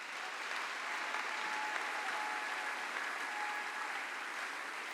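A church congregation claps for the Lord as steady, dense applause that holds at an even level throughout, moderately distant, with no voices rising above it.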